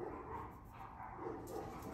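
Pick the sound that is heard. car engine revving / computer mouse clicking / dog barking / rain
dog barking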